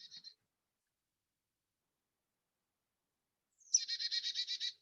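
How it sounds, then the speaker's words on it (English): A Carolina chickadee's recorded song is played back: a short high call at the start, then a long silence, then a clear run of rapid, evenly spaced high notes. "This is the Carolina chickadee"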